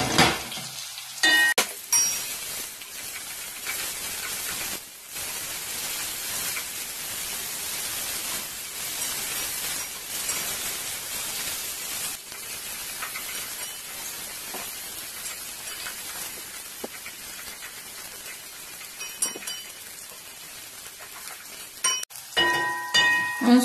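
Onions sizzling and frying in hot oil, a steady broadband crackle that runs continuously and fairly close, with occasional faint clinks of utensils against the pan.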